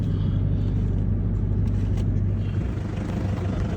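A pickup truck engine idles with a steady low rumble close by, continuous and unbroken throughout.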